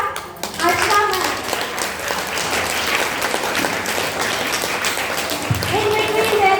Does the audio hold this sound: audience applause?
yes